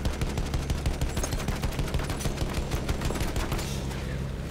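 Rapid automatic gunfire in the Battlefield 1 video game rattles on continuously, dense bursts of shots close and loud, with no talk over it.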